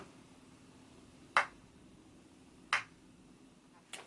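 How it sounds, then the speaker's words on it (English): Solo hand clap sample played back on an Akai MPC, three sharp isolated claps spaced about a second and a half apart over a faint hiss, each crisp and brief. "So now we're just going to listen to the clap that I just recorded."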